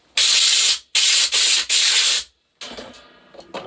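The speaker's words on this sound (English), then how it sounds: "Just use the compressor again, blow it off." Three loud, sustained hissing blasts of compressed air blow off parts during a STIHL MS 362 M-Tronic chainsaw build, each lasting about half a second, followed by quieter clattering and shuffling handling noise.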